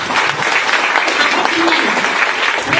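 An audience at a business training seminar in Raigarh, Chhattisgarh gives loud, steady applause that fills the whole stretch without a break.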